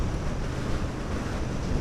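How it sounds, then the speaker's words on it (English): Strong wind buffets a microphone on a Royal Enfield Super Meteor 650 ride on a very windy day in Cardiff, a continuous loud roaring rumble with no break. "It's a very windy day today."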